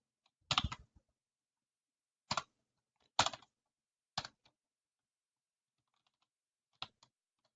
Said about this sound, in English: So here we will type our custom message.